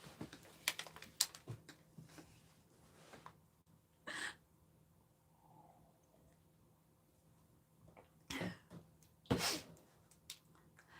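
A few short, sharp sneezes from a dog burst out at intervals, loud and close, with quiet clicking and breathing in between.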